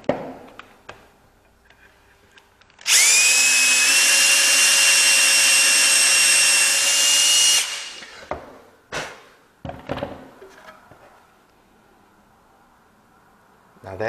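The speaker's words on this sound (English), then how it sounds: "we got to drill just a little bit deeper." A steady, high-pitched power drill whirs continuously for about five seconds, drilling a countersink hole in wood, then stops, followed by a few short knocks and handling sounds.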